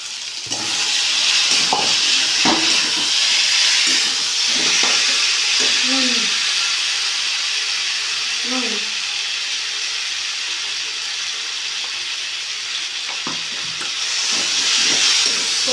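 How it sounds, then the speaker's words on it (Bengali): Potato and cauliflower pieces fry in a pan for a Bengali fish curry, giving a steady, dense sizzle that runs unbroken from start to end while a voice speaks now and then over it. "আলুটা দিয়ে দেবো ফুলকপিটা দিয়ে দেবো"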